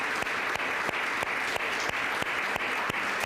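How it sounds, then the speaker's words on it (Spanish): Congregation in a church clapping steadily together after a call to honour Christ, a dense even wash of applause with no talk over it. "Denle un aplauso a él, Cristo viene pronto."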